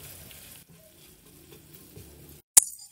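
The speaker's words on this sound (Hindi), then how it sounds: "1 मिनट हमने इसको हल्की आंच पर फ्राई कर लिया है।" Spiced samosa stuffing frying in a pan over low heat, a steady soft sizzle with light stirring scrapes, then a brief sharp clatter near the end.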